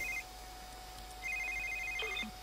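An electronic telephone in The Sims 3 game rings in two short bursts of rapid warbling tones, faint and clean over a quiet background hum.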